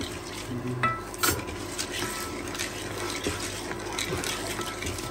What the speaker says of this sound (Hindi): चमचा ही ऐसे हिला रहे हैं जैसे बहुत बड़े शेफ़ है